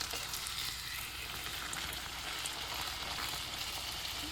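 Mutton holige frying in hot oil, a steady close sizzle with crackling bubbles that holds evenly throughout with no voices.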